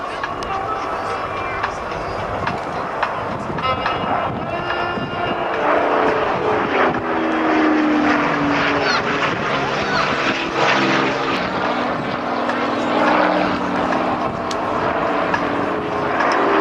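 A propeller aircraft makes a final low pass at the Sanicole Airshow 2010, its engine drone swelling and shifting pitch as it passes, with a commentator talking over the roar.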